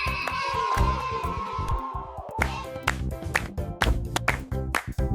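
Hands clap in a quick series of sharp, repeated beats along with a children's alphabet song about animals, over a bright musical backing.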